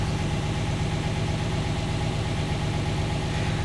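A 1969 Mercedes 280SE sedan engine idles in a steady, even rumble with a dense mechanical hum and no change in pace, heard up close and alone.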